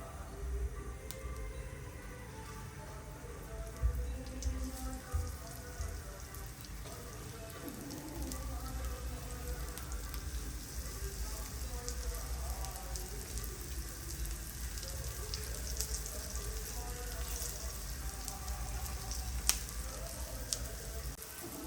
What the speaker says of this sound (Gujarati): પેટીસીમાં તળીશું